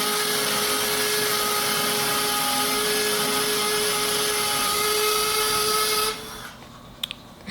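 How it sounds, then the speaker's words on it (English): Hammer drill fitted with a Bosch Bluegranite Turbo carbide bit boring an anchor hole into a block wall: a loud, steady, continuous whine and grinding roar that stops abruptly near the end, leaving a quiet room with a couple of small knocks. "I'm drilling the hole for the anchors sleeves to go into"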